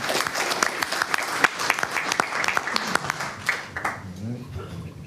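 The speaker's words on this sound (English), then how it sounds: "you deserve a big applause here" Applause from an audience after a live surgical demonstration of interlaminar and transforaminal discectomy, dense clapping that holds steady for several seconds before thinning toward the end.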